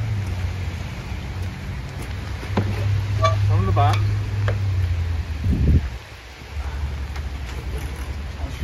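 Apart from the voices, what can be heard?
rain falling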